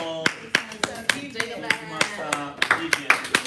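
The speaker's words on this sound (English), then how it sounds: "Please, with a wonderful full applause or generous applause," Audience clapping at a Toastmasters meeting, a loose run of separate hand claps at a moderate pace rather than a full swell of applause, with some room tone and voices underneath.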